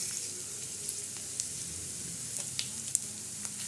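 Coriander seeds roasting in a little oil in a pan: a steady, soft sizzle with scattered light crackles and pops throughout, close by and fairly quiet.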